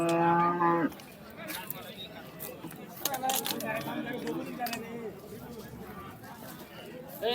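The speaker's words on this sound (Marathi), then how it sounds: "हो गाय आहे" A Jersey cow moos at the cattle market in Karad, giving one short, close, low bellow at the start. Market chatter and people talking nearby follow.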